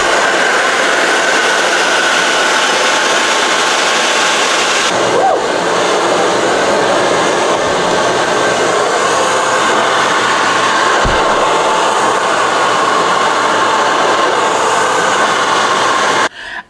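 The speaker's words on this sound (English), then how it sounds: "Okay, Bootski, as you guys can see, the blow dryer blew." A hair dryer whirring loudly and continuously at close range, with a slight shift in pitch partway through before cutting off.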